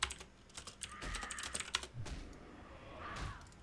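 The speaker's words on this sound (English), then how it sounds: "People are typing." Computer keyboards clatter with rapid, uneven key presses, several typists at once, soft and somewhat distant under a low background hum.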